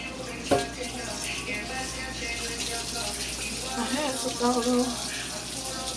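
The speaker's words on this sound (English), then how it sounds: "Alright, so I'm gonna clean my sink right quick." Tap water runs into a kitchen sink during cleaning, a steady close splashing rush with a sharp knock near the start and faint clatter under it.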